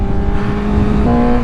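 Honda CBR600RR sport motorcycle engine running steadily while being ridden, a continuous close humming drone with a faint pitch rise near the end, no talk over it.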